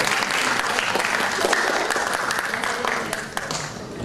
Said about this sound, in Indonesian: Tepuk tangan, inilah beliau.